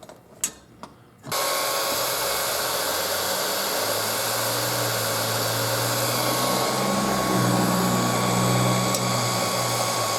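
A heat gun starts after a couple of faint clicks and then blows a steady, loud whooshing drone while shrinking tubing onto a motorcycle oil tube.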